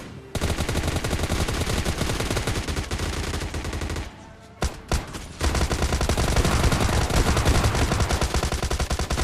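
Rapid, loud gunfire from an S12K shotgun in a battle royale video game, dense repeated blasts for about four seconds, a brief lull with a few isolated shots, then sustained heavy firing again.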